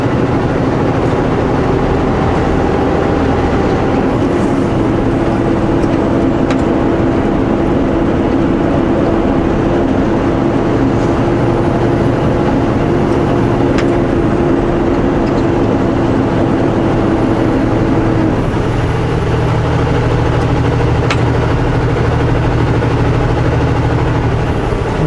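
A vehicle engine on a rainy road with fog over nearby mountains, a loud, continuous low drone with road and rain noise, its pitch holding steady for a long stretch before dropping as the throttle changes.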